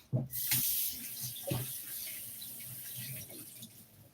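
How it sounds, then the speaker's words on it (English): Cold tap water runs steadily into a sink or pot in a home kitchen while Oha soup is being made, a continuous splashing hiss with a few louder gushes near the start. "So now we add some cold water."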